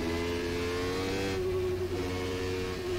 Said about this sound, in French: Souplesse incroyable, hein, ce moteur Ford.